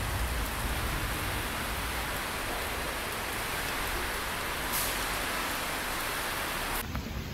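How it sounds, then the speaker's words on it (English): Heavy rain pours down steadily and loudly, a dense, unbroken hiss at close range with no talk. "It's raining so hard right now."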